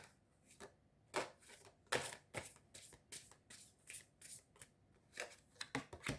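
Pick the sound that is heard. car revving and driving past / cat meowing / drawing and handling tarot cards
drawing and handling tarot cards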